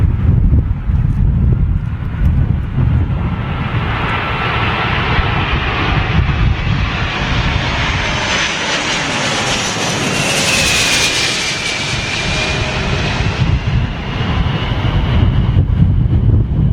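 Boeing 747 landing at London Heathrow in strong stormy wind, a loud continuous engine roar that swells and fades as it passes, with wind rumble throughout and no talk.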